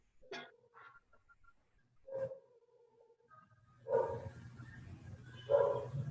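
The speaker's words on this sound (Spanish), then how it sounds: "Se escucha un perro ladrar." A dog barks a few times at a distance, short sharp yaps separated by quiet gaps, with a low rumble of background noise building toward the end.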